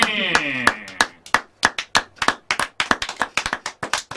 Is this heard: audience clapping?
yes